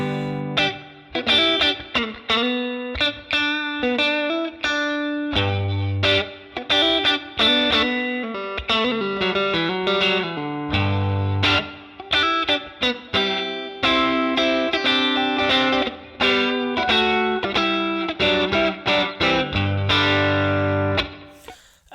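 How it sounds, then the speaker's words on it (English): Electric guitar played through a Helix modelled 1953 Fender 5C3 Tweed amp with spring reverb, a continuous stream of loud, distorted chords and single notes with a splashy reverb tail, no talking. "And here is the spring reverb."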